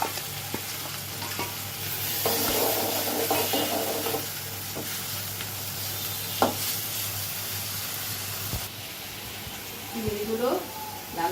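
Prawns sizzle in hot oil in a pan, a steady close frying hiss with stirring knocks and scrapes, while a person talks over it now and then.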